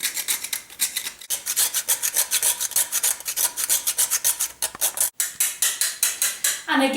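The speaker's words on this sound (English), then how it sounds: "I'm just going to grate it in with my ridiculously tiny grater" A ridiculously tiny grater scrapes cinnamon in quick, even rasping strokes, about three per second, close and crisp, with no talking over it.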